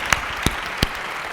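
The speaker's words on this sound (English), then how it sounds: "I just want to give a round of applause to all of our sponsors who made it possible to have BlogHer." A conference audience gives sponsors a round of applause, heard as three sharp, separate claps spaced roughly evenly over a quiet hall rather than sustained clapping.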